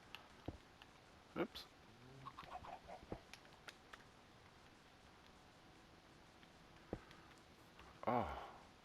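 Chickens cluck in the Survivalist video game, several short bursts scattered across the scene, with a louder flurry near the end.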